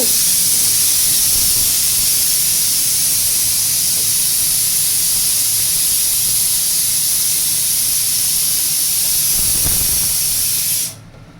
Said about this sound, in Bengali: ওটাতে মাটন হচ্ছে, প্রেশারে সিটি করছে